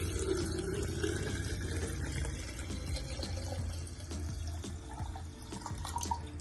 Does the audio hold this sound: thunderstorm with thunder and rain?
no